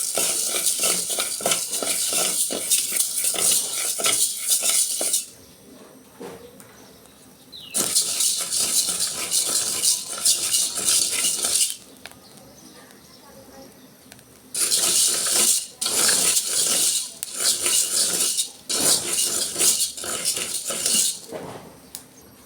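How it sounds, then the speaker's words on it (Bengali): Rice fries in a pan with masoor dal while being stirred, producing bursts of scraping, rattling sizzle from the utensil against the pan, broken by several short quieter pauses, close and fairly loud. "এখন চালটি ভেজে নেব"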